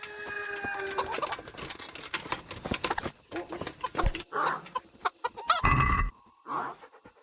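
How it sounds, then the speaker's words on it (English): Chickens cluck and squawk in the medieval role-playing game Kingdom Come: Deliverance at night, a busy run of sharp, close clucks and flutters with brief gaps and one louder burst near the end. "There's some chicken."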